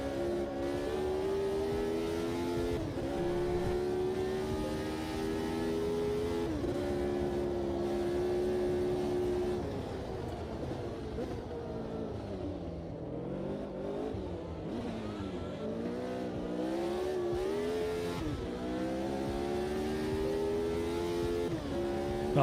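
McLaren race car in a racing video game, its engine revving up and down through gear changes with a continuous droning whine, loud and sustained throughout.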